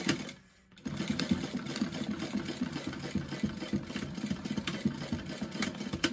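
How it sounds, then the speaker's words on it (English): A sewing machine runs steadily while stitching a half-inch seam on a bag, giving a close, rapid mechanical whirr and rattle after a brief pause at the start, with no talk. "we're going to come in here and sew it just along like that center corner marking with a 1/2 inch seam allowance"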